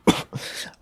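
A single close, throaty cough followed by a rougher, raspy second cough, brief and loud with no talking.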